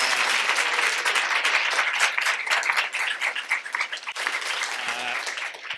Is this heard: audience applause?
yes